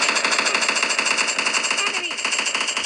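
Rapid automatic gunfire from a PUBG Mobile Lite match, sustained bursts of shots running loud and steady throughout, with faint voices underneath.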